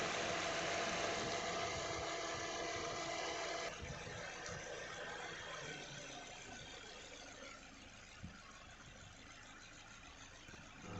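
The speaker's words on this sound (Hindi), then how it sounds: "यहाँ कंप्रेसर चालू है।" A Maruti Vitara Brezza idles with its AC compressor engaged, giving a steady mechanical hum and whir that eases slightly after a few seconds, close up and without speech.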